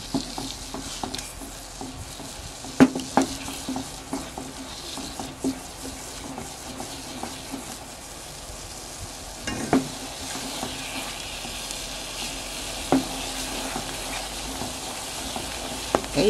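Gulaman (jelly) mixture with dissolved food colour simmering in a pot, heard as a low bubbling hiss with the spoon scraping and clinking against the pot at irregular intervals.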